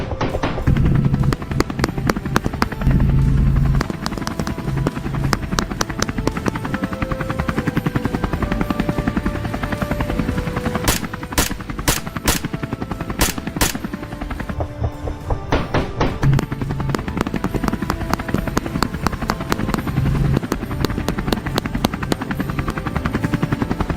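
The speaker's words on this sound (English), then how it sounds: "The helicopter continued to circle, then shifted direction toward an open field nearby." A helicopter circles overhead during a wild boar hunt, its rotor drone loud and steady throughout, with a cluster of sharp cracks partway through.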